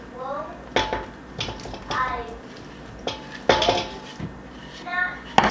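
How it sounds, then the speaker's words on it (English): Cooked potatoes go into a bowl of sour cream and condensed soup, and a utensil clinks and scrapes against the dish in several sharp knocks. Soft, muffled stirring fills the gaps, and some quiet background voices can be heard. "Now I'm gonna add our potatoes."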